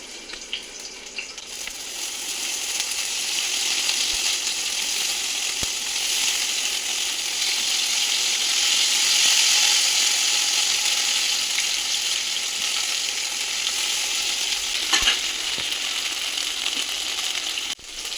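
Stuffed eggplant, gutti vankaya, fries in hot oil with a continuous close sizzle that swells gently, broken by a couple of brief sharp crackles.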